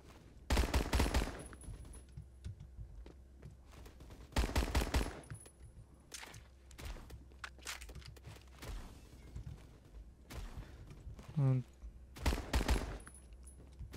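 Bursts of rapid automatic fire from a PPSH-41 submachine gun in the Roblox shooter Phantom Forces, several short loud volleys spaced a few seconds apart, with quieter game effects in between.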